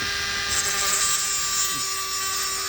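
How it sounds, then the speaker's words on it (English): Disc grinder cleaning spots on metal before tack welding, part of a seat recline knob repair on a Chevy Venture minivan, giving a steady high whine with a constant close buzzing drone for the whole clip. "So we're just gonna turn this on here. Use it kind of like a grinder."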